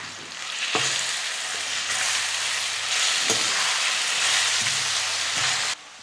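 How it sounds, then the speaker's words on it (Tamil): Grated raw mango cooking in oil in a pan, a loud steady sizzle broken by a few scraping stirs of a spatula, with no voices. "மாங்காயில் இருக்கிற அந்த ஈரப்பதம் நல்லா இழுத்துட்டு நல்லா ட்ரையாக வர அளவுக்கு நம்ம நல்லா வதக்கிக்கணும்."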